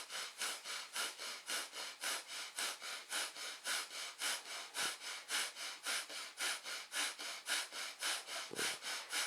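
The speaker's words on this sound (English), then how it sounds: "This is breath of fire." Quick, rhythmic nasal breath-of-fire breathing from Kundalini Yoga, done with shoulder shrugs: about twenty sharp, even puffs of air through the nose in steady succession, close and clear, with no talking.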